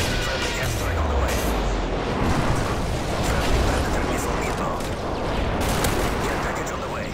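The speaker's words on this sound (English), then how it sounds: "Friendly airstrike on the way." Airstrike explosions and dense gunfire rumble nonstop during a Modern Warfare 3 multiplayer match. The booms blend into one loud, continuous battle roar, with a voice heard over the din.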